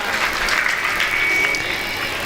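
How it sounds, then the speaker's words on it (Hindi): Loud, sustained audience applause at a spiritual discourse event, a dense continuous clapping from a crowd lasting throughout. "जोरदार ताली हो जाएगी।"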